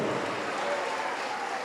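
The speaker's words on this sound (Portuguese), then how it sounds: "Vamos aplaudir, igreja." A church congregation applauding together, a dense, steady wash of clapping heard at even loudness throughout, with a faint voice carrying over it.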